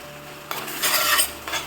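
A pan of ginger garlic paste for pav bhaji clatters as a spoon stirs it, with scraping and clinking against the metal over a faint sizzle that grows busier after a quiet start.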